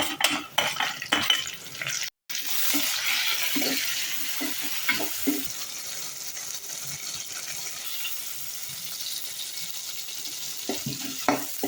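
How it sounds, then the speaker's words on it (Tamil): Tomatoes and curry leaves sauté in a pan for a Tamil fish curry, a soft continuous sizzle broken by clinks and scrapes of a spoon against the pan, close and moderately quiet. "இப்போ கருவேப்பிலை வதங்கிட்டு தக்காளியை போட்டு வதக்கலாம்"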